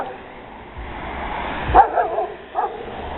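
A bored dog on a quiet street during a walk in foul weather gives a few short barks and yips, close by, between long stretches of faint outdoor background noise.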